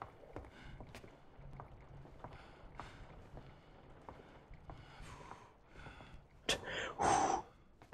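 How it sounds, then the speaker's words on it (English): A character in the game The Invisible Hours breathes heavily after vomiting up poison: quiet, ragged huffs and gasps, with a louder burst of breaths near the end. "God, the heavy breathing."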